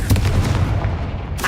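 A Confringo spell blast in the Hogwarts Legacy video game, a single short, loud explosive burst with a booming low end that quickly decays into a brief fiery crackle.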